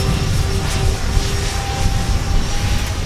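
A small E-flite Twin Timber RC airplane drones steadily overhead on a windy day, a thin buzzing whine with wind rumble underneath, constant throughout.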